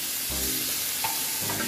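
Shrimp frying in a skillet gives a steady, close hiss of sizzling oil with a few soft scrapes and clinks of stirring, no voices.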